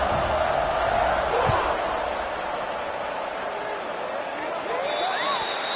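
A football stadium crowd roars after a touchdown drive, a broad, sustained wash of cheering that rises early and then settles, with a commentator talking over it.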